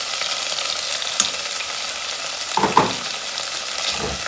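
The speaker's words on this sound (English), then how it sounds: "Add the coconut cream in." Coconut cream hitting a hot pan for a Thai beef Panang curry, a steady loud sizzle and fry throughout with a few soft scrape and stir knocks near the end.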